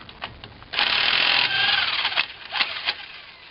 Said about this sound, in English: I'm going to use an impact wrench with a 30mm socket to get the axle nut off